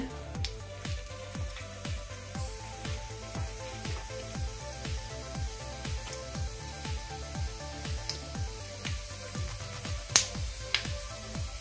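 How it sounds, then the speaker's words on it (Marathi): A spoonful of cumin seeds frying in hot oil, a steady faint sizzle with soft crackling pops at a regular pace, no talking. "तेल गरम झालंय, आता यामध्ये मी एक छोटा चमचा भरून जिरं घालते"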